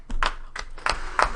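A few hand claps, about four or five separate, slightly uneven claps close by in a quiet room with no crowd behind them.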